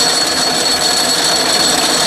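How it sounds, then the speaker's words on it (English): Atlas lathe cutting an internal thread, chattering steadily throughout as a loud, continuous harsh metallic whine with no talk. "With a chattering like that, I'm just going to take a spring cut on every pass."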